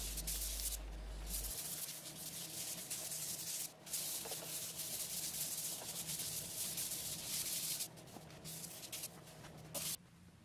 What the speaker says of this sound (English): Then a pretty good sand down with 400 grit.